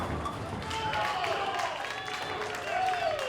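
Bowling crowd cheering and applauding a competitor, a mix of voices and clapping at moderate distance with shouts rising and falling over the noise.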